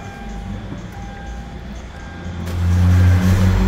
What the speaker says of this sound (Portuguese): Vou ligar o veículo aqui para vocês.